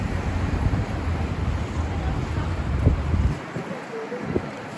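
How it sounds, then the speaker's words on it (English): Strong wind buffets a microphone outdoors in New York City, a loud continuous low rumble and roar that drops away briefly near the end. "That's how windy it is outside, everybody."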